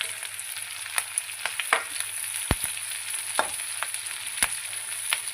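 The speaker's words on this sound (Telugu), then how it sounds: "వెయ్యి ఆనియన్స్, క్యాప్సికమ్, పచ్చిమిర్చి ఈ విధంగా ఫ్రై చేసుకోవాలి." Onions, capsicum and green chillies fry in a pan for chilli chicken, a soft steady sizzle punctuated by sharp spatula clicks and scrapes against the pan at irregular intervals.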